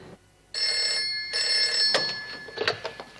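A telephone bell rings in an office setting in a television drama, two bright trilling bursts up close, followed by short clattering handling noises as the receiver is picked up.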